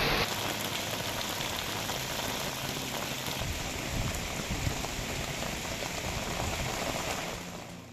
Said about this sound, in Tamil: தமிழ்நாட்டின் பல்வேறு இடங்களில் வெளுத்து வாங்கிய மழை